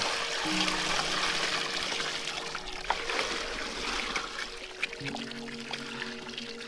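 Water is poured out steadily for pigs on a winter homestead, a continuous splashing trickle with a low hum beneath and a few small clinks along the way.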